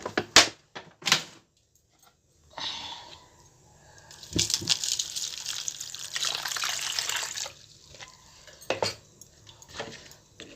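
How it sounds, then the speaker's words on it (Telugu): Vegetables are scrubbed by hand in a bowl of water with coarse salt, giving splashing, sloshing, and clinking against the bowl in uneven bursts, close by and without talk. "దొడ్డుప్పు వేసి ఫస్ట్ వీటిని మంచిగా వాష్ చేసుకోవాలి"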